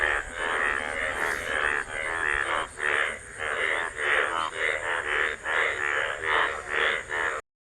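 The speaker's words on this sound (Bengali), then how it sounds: "ব্যাঙ দেখেন ডাকতেছে" Frogs croak in a dense, pulsing chorus, loud and close, with rapid repeated calls continuing without pause.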